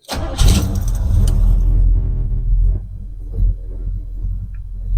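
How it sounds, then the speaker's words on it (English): A 1985 Chevy Caprice wagon's warm engine is restarted: a quick starter crank catches into a loud rumbling rev, then settles into a deep, steady idle close by. "I thought I'd just show you guys a little hot restart."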